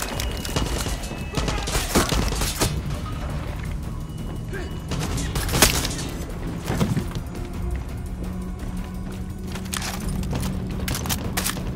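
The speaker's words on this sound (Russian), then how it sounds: "Граната, бежим!" Grenade blast amid gunfire in the shooter game Far Cry 6, scattered shots and sharp bangs popping at mid-distance over a steady busy background, with one louder crack standing out.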